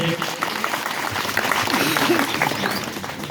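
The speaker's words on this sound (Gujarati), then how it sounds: "જોરદાર તાળીઓથી આવકારીએ છીએ" Audience applause at a Mahakali Dham temple gathering in Botad, welcoming community groups in a religious assembly; dense, steady clapping from many hands fills the space throughout, with voices mixed in beneath.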